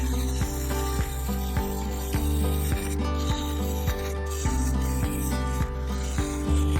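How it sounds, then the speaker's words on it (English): A sharp round side-cutting scraper hogs MDF waste from a segmented sapele bowl on a wood lathe, producing a loud, continuous scraping drone with a regular rhythmic clicking from the spinning work. "I set to hogging the waste out with a very sharp round side cutting scraper"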